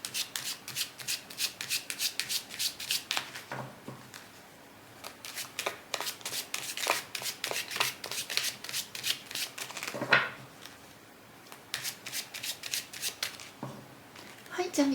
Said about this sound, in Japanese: こちらのカードシャッフルしています。